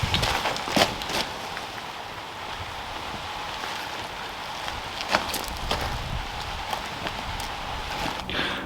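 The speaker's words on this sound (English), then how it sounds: "It's pouring down with rain." Heavy rain pours down outdoors, a steady broadband hiss filling the scene with scattered louder splashes and drips on nearby surfaces, and no speech.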